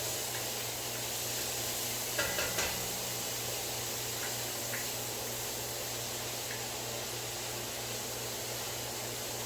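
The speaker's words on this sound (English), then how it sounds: "Just give that a stir so nothing burns or clumps up." Onions, bacon and orange bell pepper sizzle steadily in a pan, a constant hissing fry with a few faint spoon clinks from stirring.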